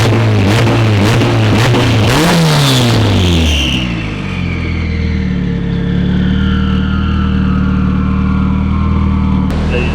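A turbocharged K-series four-cylinder swapped into a Toyota FRS cranks and fires up on its own, then settles into a loud, steady idle close by after a brief burst of revving.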